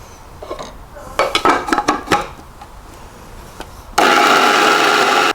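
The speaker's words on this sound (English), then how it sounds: "I'm going to put it into this coffee grinder or herb grinder" A few light knocks and rattles, then a small electric coffee grinder grinding dried basil whirs loudly and steadily for over a second before cutting off.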